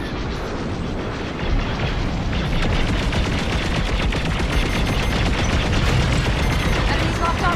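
Starfighter weapons fire in Star Wars: Squadrons, a dense, loud stream of rapid laser blasts and booming impacts over engine roar that continues without a break through the whole passage.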